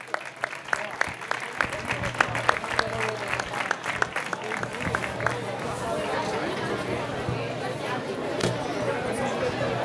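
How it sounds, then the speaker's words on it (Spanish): Audience at an awards ceremony for the Pepper Festival applauds a couple with sharp, distinct claps at first that thicken into a dense wash of clapping amid crowd chatter. "aplauso para pareja"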